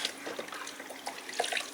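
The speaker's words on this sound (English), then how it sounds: "once again I wash it again with water" Water splashes and trickles as a sanded wooden Ercol table is washed down, a steady wet swishing close by with no talk.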